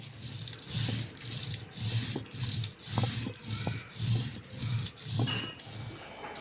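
Fennel, cumin, ginger and garlic ground on a stone grinder make rhythmic scraping and rubbing strokes, about two per second, close and fairly quiet, with no talk over them.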